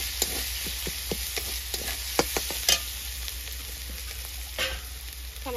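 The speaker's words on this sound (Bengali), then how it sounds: "দিয়ে ভালো করে কষে নেব।" Spice paste with mustard, cumin, coriander, turmeric and chilli sizzling in a pan for a raw-mango shol fish curry, with scattered stirring scrapes and clicks over a steady frying hiss, no talk.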